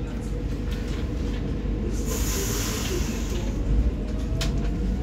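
An SU46 diesel locomotive pulls a train away from the station at Widzew, a loud steady rumble with hiss and rolling noise close by, while voices speak faintly underneath.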